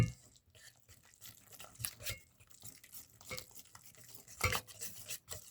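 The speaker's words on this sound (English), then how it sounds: "Now we're going to whisk it all together." Taco ingredients are whisked together in a bowl, making irregular close scraping and clinking strokes with brief sharper knocks, in a quiet kitchen.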